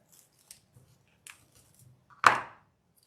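Scissors snip through a pipe cleaner for a retro Santa wreath craft, with a few faint taps and handling sounds and then one crisp, close cut, and no talking.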